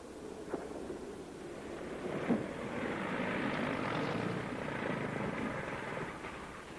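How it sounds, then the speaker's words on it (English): A propeller airplane drones steadily nearby as it comes in to land, its engine roar swelling slightly, with a few faint knocks. "Take it easy in the landing, Shane."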